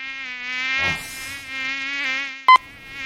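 A mosquito whines close by in a dark bedroom in the small hours, a thin, steady high-pitched buzz that hangs on for seconds, broken by a soft rustle and a brief sharp tone.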